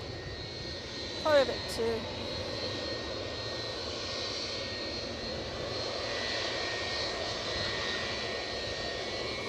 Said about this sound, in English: JetBlue's off to New York